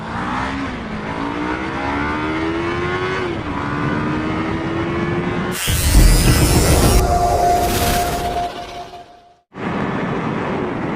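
A close Yamaha R3 motorcycle engine revs continuously with a steady rising whine, climbs toward 12,500 rpm, then cuts out briefly before resuming at speed.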